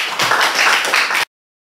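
A classroom of students claps together in a short, loud burst of rapid, uneven claps lasting just over a second, then cuts off abruptly into silence.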